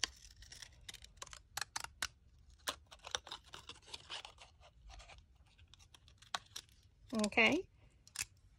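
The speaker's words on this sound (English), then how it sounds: "use your pinking shears or your decorative scissors and just cut along the" Pinking shears or decorative scissors snip along the edge of a paper strip for a craft flower, making crisp, rapid cutting crunches in short bursts, with a louder rustling cut near the end and a brief spoken word.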